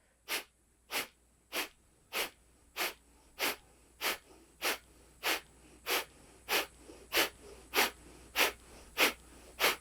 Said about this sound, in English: Nice, full breaths of fire.